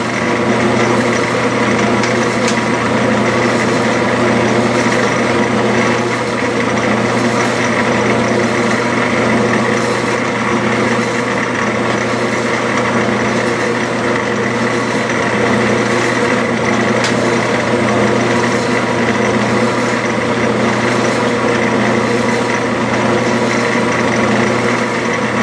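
A metal lathe threads 3/8-16 steel stock with a carbide tool, giving a loud, steady machine drone with a constant motor hum and faint cutting hiss that runs unbroken throughout.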